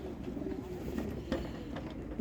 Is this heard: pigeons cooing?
yes